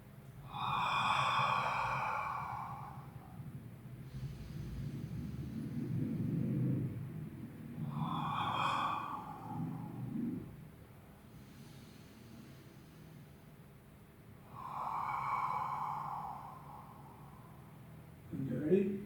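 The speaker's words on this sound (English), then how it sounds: "Let's do just 4 more breaths." Slow, deep breathing during an Ashtanga yoga session, with long audible inhales and exhales repeating in an even rhythm, close and fairly soft, over a low background rumble.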